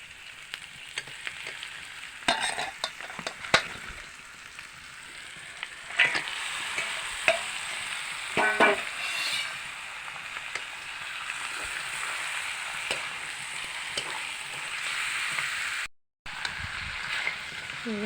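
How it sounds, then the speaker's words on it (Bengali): Fish frying in a pan with spices and chopped tomato, a soft continuous sizzle broken by scraping stirs and occasional louder spatula clatters, close and without talk. "ভেজে নিতে হবে, কষিয়ে নিতে হবে ভালো করে"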